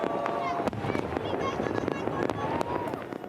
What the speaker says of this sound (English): New Zealand had a fireworks show in Auckland.